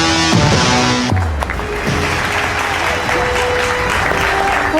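Audience at an awards show breaks into sustained, dense applause after a brief musical flourish, steady and loud throughout.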